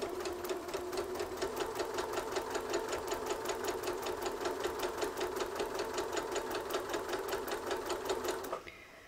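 Long arm quilting machine stitching fabric for a rug, a steady fast mechanical chatter of rapid needle strokes running evenly throughout and cutting off abruptly near the end, close and alone without talking.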